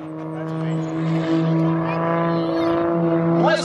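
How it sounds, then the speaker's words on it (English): An Extra 330 aerobatic plane with a Hartzell propeller flies past at the New York Airshow, its steady droning engine tone holding level and then rising near the end, with an announcer talking over it. "Listen to that Hartzell propeller just straight through the sky"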